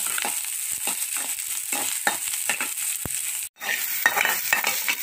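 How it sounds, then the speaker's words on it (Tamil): Chopped onions sautéing in hot oil with popped mustard seeds in a kadai, a steady close sizzle broken by rhythmic scraping stirs of a spoon, with a brief pause partway through and no talking. "வெங்காயம் நல்லா வதங்கிடுச்சு."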